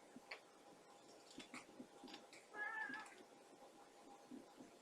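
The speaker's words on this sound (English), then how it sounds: "Here comes the cat." Cat meowing once, a faint, short meow near the middle, set against soft scattered tapping and handling noises in a quiet room.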